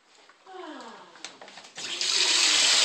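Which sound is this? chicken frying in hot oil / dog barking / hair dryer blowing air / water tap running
water tap running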